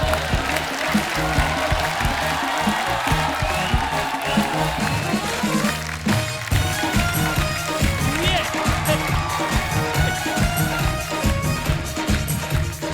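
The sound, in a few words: audience applause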